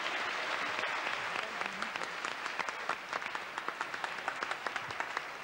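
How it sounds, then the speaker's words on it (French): An audience breaks into applause at a French TV game show, steady dense clapping that thins into more distinct individual claps toward the end. "Vous pouvez l'applaudir, hein, Bernard."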